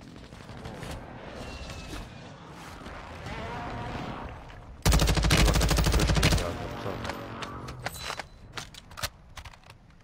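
An LMG fires in Call of Duty: Warzone 2.0 as one loud, dense burst of rapid rounds lasting about a second and a half, surrounded by quieter game clatter and keyboard clicks.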